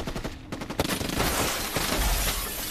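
Video game explosion followed by a rapid burst of gunfire, a short ragged volley of loud, dense shots filling the clip with sharp crackling impacts.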